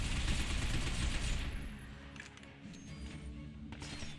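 Dense, continuous gunfire in the third-person shooter Binary Domain, loud rapid shots filling the first second and a half, then thinning to scattered cracks against game background.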